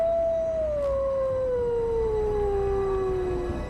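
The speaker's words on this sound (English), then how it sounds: "Even the sound of a wolf howling in the distance was enough to fill a" A single long wolf howl carries from far off, a sustained wavering tone that slowly falls in pitch over several seconds against a steady low background rumble.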